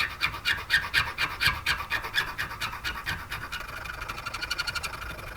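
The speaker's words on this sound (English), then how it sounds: "By cleaning up, I just mean sanding, smoothing everything off." Rhythmic rasping strokes of sandpaper on a wooden fishing lure body, quick back-and-forth rubbing that speeds up toward the end, close and fairly quiet.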